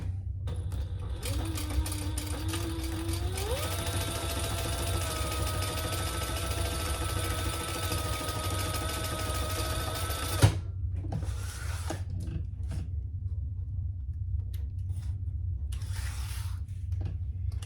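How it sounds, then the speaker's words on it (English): A sewing machine runs steadily while stitching a crossbody bag, a continuous motor hum with rising pitch early on that stops abruptly partway through, followed by quieter handling sounds. "I might do 2 rows of stitches"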